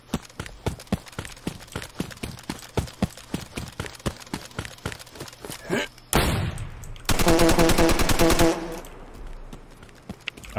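Rapid gunfire in the survival video game DayZ: a long run of sharp, evenly spaced shots, followed by a denser burst of fast automatic fire and a short, heavy blast, loud and with no talking.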